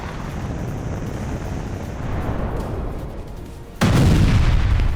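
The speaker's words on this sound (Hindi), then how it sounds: "अटैक हेलीकॉप्टर से मिसाइल गिराई गई।" A missile fired from an attack helicopter hits with a sudden loud blast about four seconds in, after a steady rumbling rotor drone, and the explosion's roar lingers to the end.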